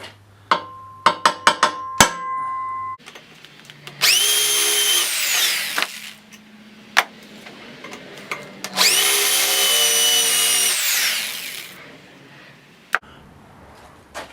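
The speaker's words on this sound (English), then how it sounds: "So I can drill this." A power drill whines up through wood in two long bursts, between sharp knocks and taps, close and loud.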